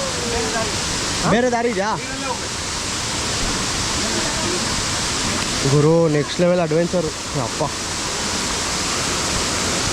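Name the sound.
forceful waterfall at Sirsi trek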